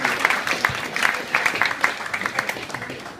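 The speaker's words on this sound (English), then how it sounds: "So another round of applause for him." Wedding guests applaud at a reception during the best man's speech, steady clapping from a room of people with sharp individual claps standing out near the listener.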